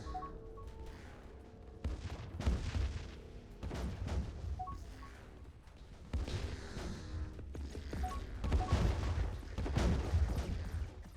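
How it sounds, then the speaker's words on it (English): Planetary bombardment in the space strategy game Distant Worlds 2, repeated heavy booming blasts and rumbling explosions rolling in waves, loud and continuous, with a few faint tonal blips, no voices. "It looks like the bombarding's going really well."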